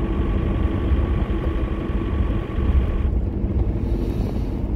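A broken truck engine running roughly, a loud continuous low rumble with a steady drone and some wind buffeting on the microphone, the tone dropping slightly near the end with no talk over it.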